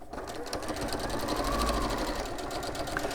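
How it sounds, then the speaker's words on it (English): A sewing machine stitching along the raw edge of folded cushion fabric, a steady close mechanical whirr of rapid needle strokes running throughout, with faint background voices. "We're sewing along that raw edge."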